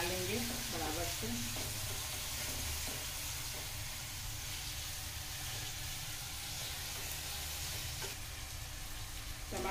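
Tomatoes with salt fry in a pan while a spoon stirs them slowly and evenly, producing a soft, continuous sizzle with occasional scraping strokes, fairly quiet and steady throughout.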